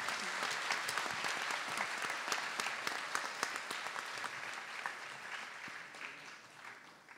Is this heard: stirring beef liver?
no